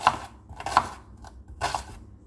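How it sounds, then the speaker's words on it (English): A knife chops a giant homegrown cucuzza squash into smaller slices on a cutting board, giving three crisp, close chops spaced about half a second apart and then a pause, with no talking. "Cut that down the middle. Get some smaller slices."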